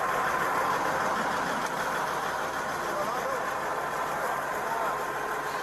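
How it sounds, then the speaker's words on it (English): A truck engine idles loudly and steadily, a continuous broadband rumble that fills the whole stretch with faint voices beneath it. "It's so goddamn loud on this truck."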